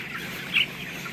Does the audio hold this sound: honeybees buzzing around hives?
no